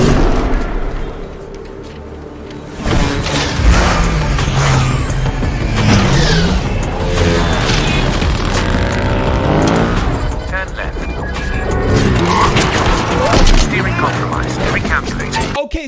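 Motorbike chase in the Valorant Harbor trailer, with loud engine roars, passing vehicle rushes and booming impacts running continuously under dramatic score, and a voice speaking at points over the action.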